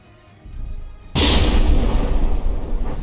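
Heavy naval gunfire in a battleship-brawl game, From the Depths, as a warship's turret is destroyed: a low rumble swells, then a sudden loud blast at about one second gives way to sustained roaring booms and crackle.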